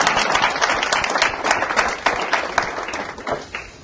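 Dense, warm applause from a live audience fills the room at a talk, a thick wash of many hands clapping at once that holds strong before thinning slightly near the end.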